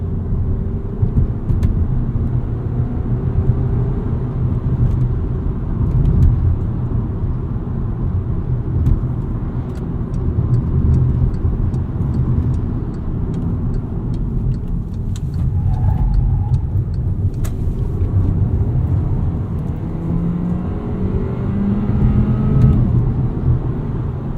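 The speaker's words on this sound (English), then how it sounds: "This Jetta does ride really well." A 2016 Volkswagen Jetta 1.4T SE cruises along, its engine and tire roar forming a continuous low rumble heard from inside the cabin with no talking.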